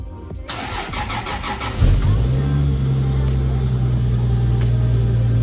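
A Nissan Pulsar engine converted to G-series, cranks over with rhythmic starter clatter, catches after a couple of seconds, then settles into a loud, steady idle with a slight rev.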